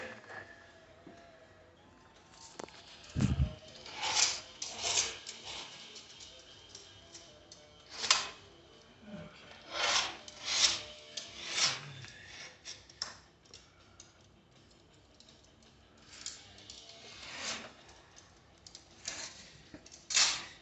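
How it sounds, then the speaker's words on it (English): A razor scraper scrapes paint off the very edge of a window pane during a tint installation, giving repeated short scratchy strokes and taps with pauses between them, close by, with faint speech in places. "I'm scraping off some of this paint that's along the very edge here"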